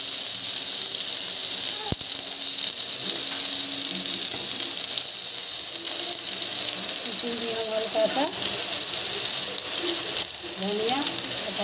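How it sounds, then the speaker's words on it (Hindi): Boiled potato slices frying in a pan, a continuous sizzle with scattered clicks and scrapes of a utensil, and occasional faint voice sounds underneath. "हमने आलू की फ्राई बना रही हूँ उबाल के"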